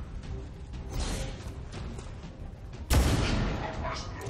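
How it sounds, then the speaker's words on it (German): Gunfire in the video game XCOM 2: a broad, loud blast about three seconds in, set against ongoing game noise and battle rumble. "ein Schuss"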